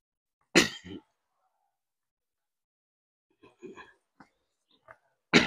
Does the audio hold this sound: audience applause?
no